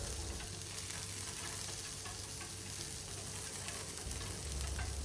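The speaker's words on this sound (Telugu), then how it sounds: "నేను ఎలాంటి ఆయిల్ యూస్ చేయకుండా డైరెక్ట్గా ఆనియన్స్ వేస్తున్నాను" Onions dropped into a dry non-stick pan for rava dosa, with no oil: a steady, even sizzle with faint stirring scrapes, close and continuous, no voices.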